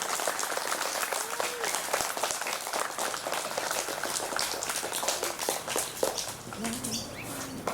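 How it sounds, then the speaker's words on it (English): An audience at a school presentation day applauds award recipients, producing a steady wash of many hands clapping at moderate distance, with some voices mixed in. "Let's give our KS award recipients a big round of applause."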